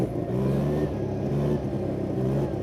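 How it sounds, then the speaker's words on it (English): A rare 1971 Arctic Cat Panther 303 snowmobile with a Wankel rotary engine runs close by with a steady, loud, buzzing drone that holds an even pitch with slight wavering, and no voices over it. "It actually feels like a pretty torquey engine."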